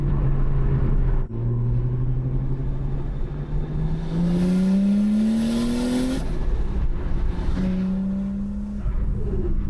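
A Lexus IS200 turbo drift car revs loudly and close by, climbing in pitch through several sweeps with brief dips between them and no talking.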